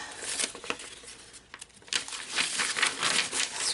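Scrap paper crumpling and rustling close by, loud crinkles and shuffles that swell and fade unevenly as sheets are handled and sorted during a cleanup.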